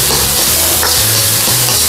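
Shiitake mushrooms, carrots and spring onion for Spam bacon fried rice sizzle loudly in a hot pan. A spatula scrapes and tosses them in quick strokes under the constant hiss.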